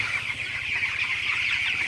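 Broiler chickens cluck steadily in a poultry house in the morning, with many birds forming a continuous, moderately close murmur of soft calls and no talking.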